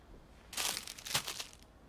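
A bag of licorice sweets crinkles in a quiet indoor scene, with a short burst of close, crisp rustling and crackling that starts after a moment of near silence and then fades.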